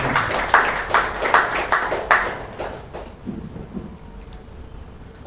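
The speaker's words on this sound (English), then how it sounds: "let's all put together a big round of applause for Bala's achievement" A small audience at a Chennai experience-centre event claps in a short burst of loud, rhythmic hand claps, close and distinct at first, then tapering off into quieter scattered claps and near silence.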